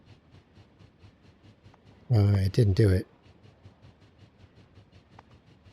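A train running in the Factorio video game, a soft continuous rolling clatter with faint rhythmic clicks in the background, briefly covered by a man's short spoken remark in the middle.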